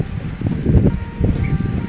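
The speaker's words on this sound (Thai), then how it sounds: "มันแน่ลมนะพี่น้อง" Gusty wind blows hard outdoors during a heavy rainstorm with flooding, a loud rumbling roar that swells and surges close to the microphone.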